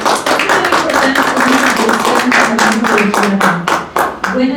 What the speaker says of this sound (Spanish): brindamos también un fuerte aplauso el día de hoy para el ingeniero Marco Antonio Arias